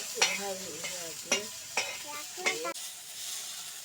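Chillies and leaves fry in oil while being stirred: a soft sizzle under repeated rhythmic stirring scrapes and clinks, about five strokes, close by.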